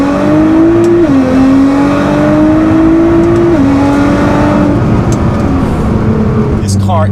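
Nissan GT-R R35 Premium with a stage 3 build, full bolt-ons and about 600 wheel horsepower, accelerating hard through the gears, its exhaust droning loud and close with rising tone and brief dips at each upshift, easing off at the end.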